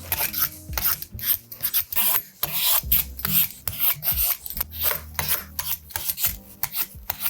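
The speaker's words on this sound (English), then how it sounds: "So now that we got the butternut squash sectioned and peeled" Vegetable peeler peeling a butternut squash, heard as close, repeated rasping strokes in an uneven rhythm of about a dozen quick scrapes, each a short gritty rub separated by brief pauses, with no talking.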